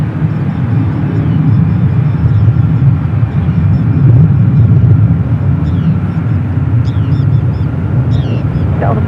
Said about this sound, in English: so the Delta 767 coming in from Atlanta,